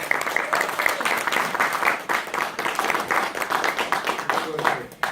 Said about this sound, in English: Standing applause for everybody.